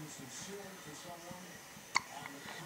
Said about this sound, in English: She gets hiccups a lot with you.